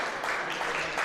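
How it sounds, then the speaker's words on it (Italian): Applause from spectators at an international bocce match, a steady wash of clapping through the whole moment, moderately loud and without clear gaps. "intanto gli applausi che sentite"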